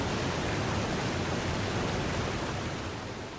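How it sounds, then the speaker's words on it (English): A Yosemite waterfall pours in a dense, even rush of broadband noise, steady and full with no voices, easing slightly toward the end. "Then there are the waterfalls."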